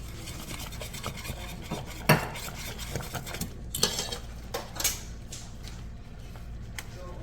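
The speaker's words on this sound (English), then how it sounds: "I'm gonna put some fresh cracked black pepper." Fresh black pepper being cracked over sirloin beef tips, a dry rasping grind with scattered scraping clicks and a few sharper taps, close up and moderately quiet, no talking.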